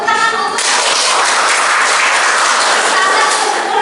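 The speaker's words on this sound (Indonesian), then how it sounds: "Tepuk tangan untuk" Sustained, loud applause from an audience at a university teaching-certification session, dense steady clapping filling the space for several seconds without pause.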